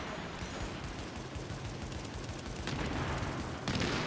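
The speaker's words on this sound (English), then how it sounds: "We do have a sniper firing at us as well, so our shield may not last" Continuous dense gunfire and combat noise from the video game The Division during a power plant challenge mission, a steady loud wash with a couple of sharper bursts near the end, no talking.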